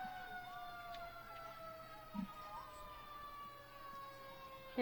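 Fire engine and ambulance sirens at the tail end of a small-town Peach Days parade, wailing and sweeping steadily at moderate distance with faint traffic rumble beneath.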